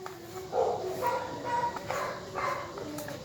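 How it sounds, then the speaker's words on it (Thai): A dog barks in the morning outdoors, several short yips and woofs spaced about a second apart, moderately close, with light background hum. "ตอนเช้านะคะ หมาจะเห่า"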